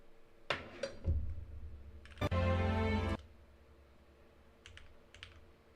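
Typing on a computer keyboard to test whether every key registers, with clusters of close, crisp key clicks and a dense burst of rapid strokes in the middle, then a few scattered taps.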